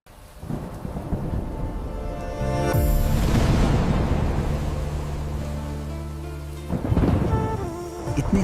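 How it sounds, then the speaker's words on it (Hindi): Heavy rain hisses steadily through a thunderstorm as a deep, loud thunderclap rolls in partway through and rumbles on, with a second burst of thunder near the end; no voices. "इतने समय बाद वर्षा हुई"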